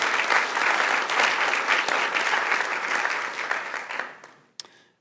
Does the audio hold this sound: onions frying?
no